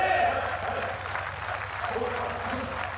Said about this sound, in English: they're asking the crowd for more noise for Kota before he comes out there